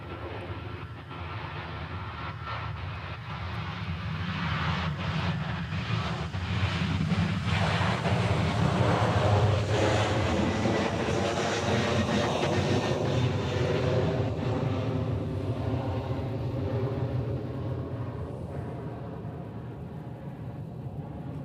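A Qantas airliner at Honolulu airport makes a broad jet roar that builds over the first few seconds and then holds loud and steady for about twenty seconds, with wind buffeting the microphone.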